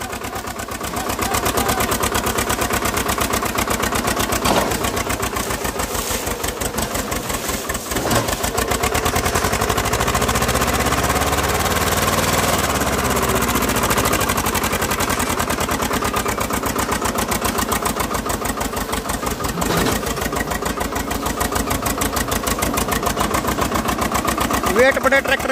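A Swaraj 724 tractor engine drones steadily and loudly throughout, laboring under a fully loaded sugarcane trolley with a rumbling, chugging texture and occasional knocks.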